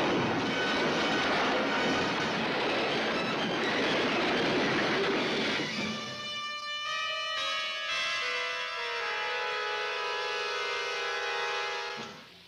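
A train rumbles past loudly, then its wheels squeal with long, ringing metallic tones as it slows.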